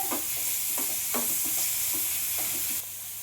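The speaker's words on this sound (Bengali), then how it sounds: "গাজর কুচি, বিট কুচিটা দিয়ে দিলাম, দিয়ে একবার ভালো করে 2-3 মিনিটের মতো নাড়াচাড়া করে নেব।" Chopped carrot and beetroot stir-fried in a hot pan, with a steady oily sizzle under a run of soft scraping stirs spaced through the moment, close and fairly loud, no talking.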